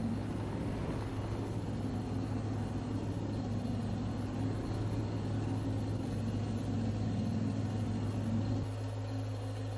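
An old abandoned barn-find truck in Farming Simulator 22 drones with a low, steady engine hum while being driven up onto a trailer, the tone holding even before shifting slightly near the end.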